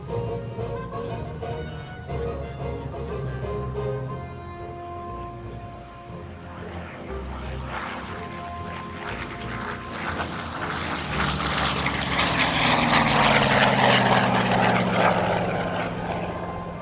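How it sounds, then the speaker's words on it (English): An FG-1D Corsair (F4U) warbird flies at an air show, its piston propeller engine droning loudly and swelling as the plane sweeps past, with a public-address voice over it early on. "As Chris repositions the F4U, he will configure for his next maneuver the inverted pass"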